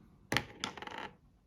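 Dice rerolled during a solo Dungeon Saga board game session: two quick bright clattering tumbles, the second rattling on for about half a second, close and fairly quiet with no talking.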